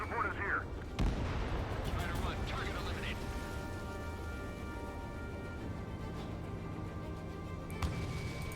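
Gunfire and explosions from the air combat game Ace Combat 7 rumble faintly through a steady wash of game noise, with a sharp blast near the start and another toward the end. A voice talks underneath.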